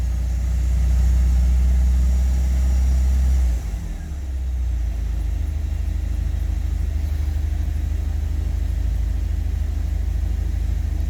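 A car engine idles during a tune-up, a steady low rumble that dips briefly and then settles into a slightly different even idle as the speed is adjusted, with no talk.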